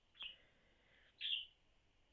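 A single bird calls twice, sharp high chirps separated by about a second, fairly faint against a quiet indoor background with no talking.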